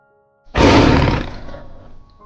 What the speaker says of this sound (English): It's the tiger